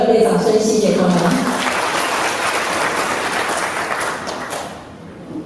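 A meeting audience at a temple association's general assembly claps in a dense, sustained round of applause that fades slightly toward the end, with a speaker's voice over the opening second.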